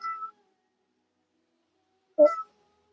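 A pet cat meows twice, a short call and then a second one after a pause of nearly two seconds, both clear and fairly close in an otherwise quiet room.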